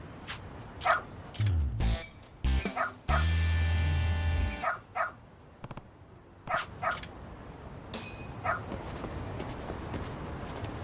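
A dog in the video game Lost Judgment barks and yips in short sharp bursts with a few whimpers, set against game sound effects and ambient noise, with no talk over it.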